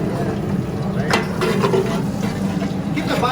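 Butter melting in hot oil for beef caldereta cooked in bulk, a steady close bubbling hiss with a few soft stirring scrapes over it.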